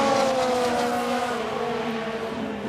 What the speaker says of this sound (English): Why does the engine sound so bad?